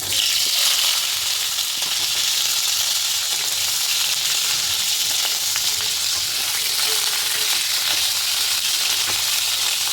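Potato and cauliflower pieces frying in hot oil with cumin, a loud, dense, continuous sizzle close by that holds steady throughout with no talking.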